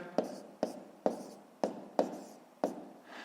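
A pen writes numbers on paper for a math exercise, giving six or seven sharp taps and short scratchy strokes at an even pace, close and faint.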